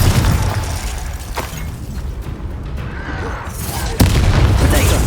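A Confringo spell explodes in Hogwarts Legacy on PS5 with loud, booming blasts over a dense, rumbling game soundscape, and a sharp new impact lands near the end.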